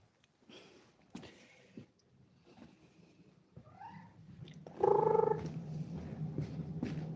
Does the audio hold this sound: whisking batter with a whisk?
no